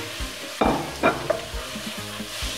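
Onions and squid fry in a pan, with a continuous close sizzle broken by two or three sharper bursts as the pieces are stirred or dropped in.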